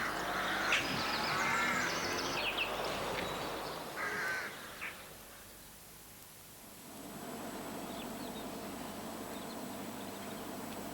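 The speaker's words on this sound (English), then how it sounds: "Rooks are with us all the year round, with numbers estimated at around 3 million birds." Rooks caw harshly in open countryside, several ragged calls clustered at the start over a faint hiss of background noise, then quieter distant air.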